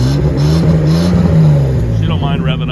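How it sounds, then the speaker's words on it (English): A 1970 Series 1 Datsun 240Z engine revs up steadily and close by, with a low, rumbling exhaust note and voices talking over it. "Go ahead and rev it up a little bit."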